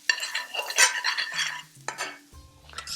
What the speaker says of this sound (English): Right, let's roast those spices out.